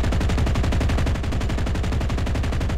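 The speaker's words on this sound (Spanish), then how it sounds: "Y volvemos a tirar ametralladora." Rapid machine gun fire in the World War II shooter Enlisted, a loud, continuous burst of evenly spaced shots with no pause.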